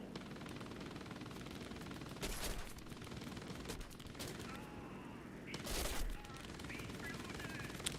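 Machine-gun fire from aircraft in a video game dogfight, quick bursts over a steady engine drone, with two louder rattling volleys and faint talk beneath.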